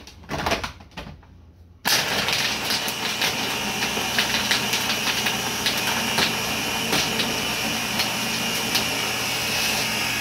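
A Ninja blender spins a frozen protein ice cream mix, starting abruptly after a short quiet lead-in and then running as a steady, loud, close whirring drone for the rest of the clip.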